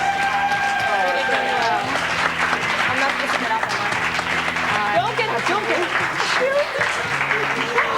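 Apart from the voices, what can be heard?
studio audience applause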